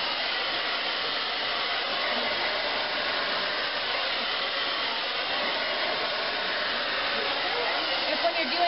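A handheld blow dryer runs continuously while drying hair, a steady, loud, airy whir held at close range.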